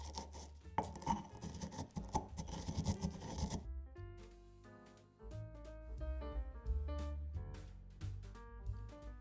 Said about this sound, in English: add 1 teaspoon of coriander seeds and 1 teaspoon of cumin seeds to a pestle and mortar. Grind the spices together